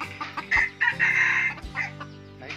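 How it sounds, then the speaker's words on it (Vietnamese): A domesticated jungle-fowl decoy rooster crows loudly and close, one long harmonic call with clucking notes around it, standing alone with no talk. "Con gà mồi mình gáy anh em ạ."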